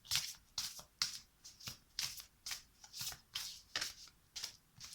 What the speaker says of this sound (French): Ah mais je brasse là, elles veulent pas tomber.